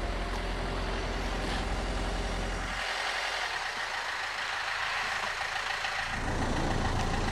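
A car engine runs steadily with newly fitted glow plugs, a loud continuous rumble heard close up that drops back for a few seconds and then builds again.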